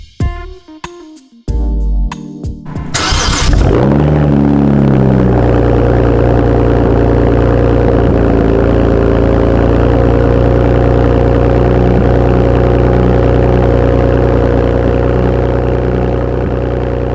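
BMW with a modified exhaust restarted while warm: a few brief clicks and a cranking starter, then the engine catches and settles into a steady, loud, deep idle that continues unchanged to the end.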